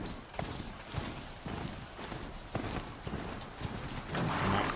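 A machine horse mount in Horizon Zero Dawn trots along, its hoofbeats clopping in a quick steady rhythm over game ambience, moderately loud with a swell of sound near the end.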